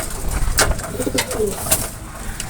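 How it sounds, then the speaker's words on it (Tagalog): Close pigeons coo in soft, throaty bursts, a few overlapping calls with some rustling in between. "Ito yung mga ibon natin. Kompleto na."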